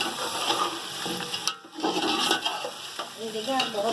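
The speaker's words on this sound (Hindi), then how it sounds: "फ्राई करते हुए मसालों के साथ ये देखें हमारा जैसे गोश्त फ्राई हो चुका है" Meat fries with spices for biryani, a dense close sizzle with rhythmic stirring scrapes and a brief lull midway before the frying noise swells again.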